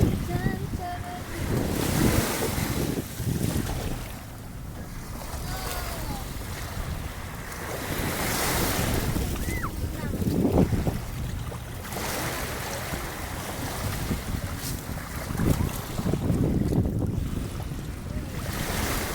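Sea waves wash in surging swells at the Manila Bay beach, with wind buffeting the microphone and an occasional faint voice in the background.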